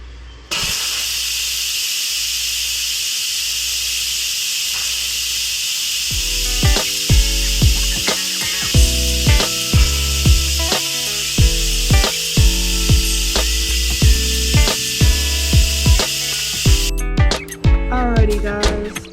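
An Instant Pot pressure cooker with oxtails vents its pressure in a loud, steady, close hiss of steam that runs for about sixteen seconds, with sharp tapping knocks beneath it before the hiss cuts off.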